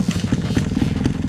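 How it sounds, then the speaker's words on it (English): A trials bike engine chugs and pulses in quick uneven bursts as its trials tyre scrabbles for grip on a clay climb, close and fairly loud. "The trials tyre on Marie's trials bike is having trouble with the clay on this climb."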